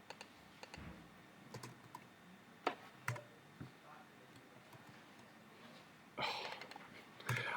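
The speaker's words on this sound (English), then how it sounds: "I'll just type it out." Sparse clicks of typing on a computer keyboard, a few separate keystrokes early on and a quicker burst of taps near the end, faint and close.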